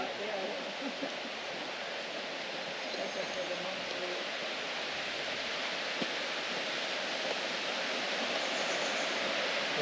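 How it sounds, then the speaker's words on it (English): Steady rushing of a waterfall and creek water flowing nearby, a continuous broadband wash that fills the whole stretch at even loudness with no pauses. "I hear a waterfall, the water flowing."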